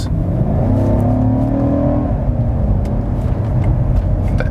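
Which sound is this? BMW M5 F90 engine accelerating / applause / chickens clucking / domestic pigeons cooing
BMW M5 F90 engine accelerating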